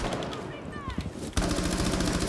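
Gunfire in Rainbow Six: Siege, shots fired up through the floor: rapid automatic bursts, loud and close, with a brief lull before a sharp, dense volley resumes.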